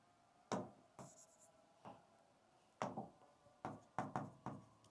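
Chalk strikes and scratches on a classroom board as chemistry notes are written, coming in short separate taps and strokes with pauses between them, close and fairly clear.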